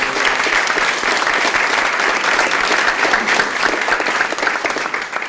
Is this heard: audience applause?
yes